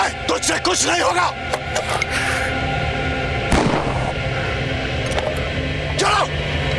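Gunshots ring out in a TV crime drama scene as sharp, loud bangs in irregular bursts over tense background music, with voices shouting between them.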